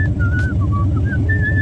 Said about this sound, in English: Oh, it's me whistling.